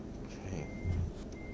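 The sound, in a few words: truck reversing beeps while backing a trailer, from the video game American Truck Simulator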